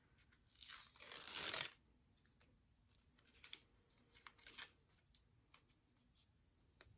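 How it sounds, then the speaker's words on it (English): Sticky backing tears off a large star sticker in a loud close rip lasting about a second, followed by quieter crinkling and peeling bursts. "now I'm going to take the sticky part off the back of my star. It's a big sticker."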